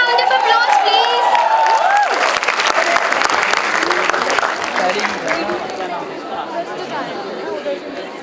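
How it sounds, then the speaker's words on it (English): A big round of audience applause at a college fest, dense loud clapping mixed with cheering, whoops and crowd chatter, with voices talking through it. "Can we have a big round of applause,"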